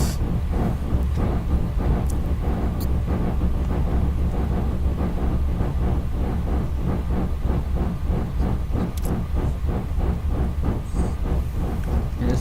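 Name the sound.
train passing with caboose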